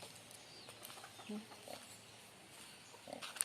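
Faint grunts and snorts from pigs on a farm come in short bursts over a quiet, low background rumble.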